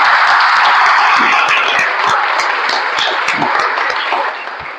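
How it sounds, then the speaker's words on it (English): A room of people gives a round of applause for a club at a meeting in Goa, a dense, steady clapping that fades slightly toward the end. "can we have a huge round of applause for our club?"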